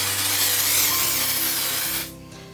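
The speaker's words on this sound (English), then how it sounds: "Just spray it on." A steady, loud aerosol hiss of spray adhesive onto quilt fabric sprays continuously for about two seconds, then cuts off abruptly, leaving quiet room tone.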